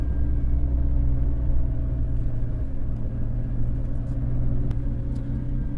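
A manual car drives along a single road in Bangladesh, heard from inside as a constant low engine and road rumble with a brief sharp click near the end.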